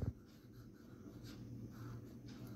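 A pen writes on an activity page, faint scratchy strokes in short bursts close by, over a quiet low room hum, with no talking.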